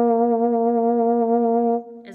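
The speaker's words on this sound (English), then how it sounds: "Vibrato is when you oscillate the pitch a little bit to warm up the sound" Euphonium holds one sustained note with a gentle, warm vibrato, close and loud for nearly two seconds before cutting off into a brief spoken word.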